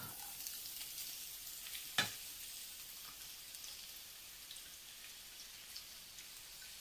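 Chopped onions and whole spices such as cinnamon sizzle quietly in a pan for an egg roast, a soft steady hiss with a single sharp click near the start.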